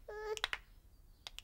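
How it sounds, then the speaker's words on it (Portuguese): A few crisp finger snaps, close and fairly quiet, two or three near the start and two more just before the end, following a short musical tone. "eu dou um estalido com os dedos"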